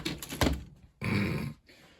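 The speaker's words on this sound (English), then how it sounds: "Let's close the door." A door on an appliance holding a Bosch unit swings shut with a brief clunk and rattle, followed by a second short bump, close by.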